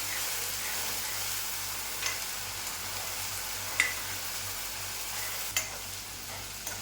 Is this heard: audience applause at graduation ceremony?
no